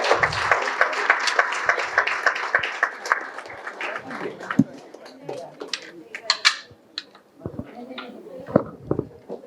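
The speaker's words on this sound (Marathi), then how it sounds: "अरे टाळ्या वाजवा रे." An audience at a school batch reunion gathering claps in a dense burst of applause that thins into scattered claps and shuffling, with voices murmuring underneath.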